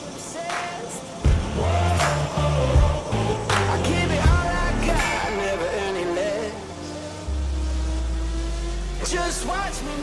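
A TURCHI 300F pile driving rig moving along, its engine rumbling and rising in bursts with clanks and knocks, fairly close, and a low deep drone joining near the end.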